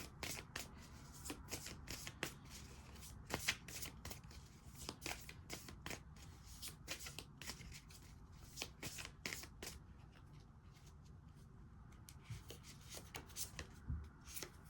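Tarot cards are shuffled by hand in a quiet room, a long run of rapid soft riffling and slapping bursts at close range, faint and irregular, with no talking.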